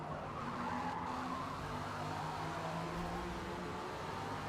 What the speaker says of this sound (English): some Group 1 car just like spun out there